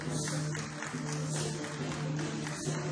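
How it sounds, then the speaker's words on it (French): An audience at the Central Bank of the Democratic Republic of the Congo applauds its governor, steady dense clapping over a constant low hum. "Vous pouvez l'applaudir, c'est votre gouverneur"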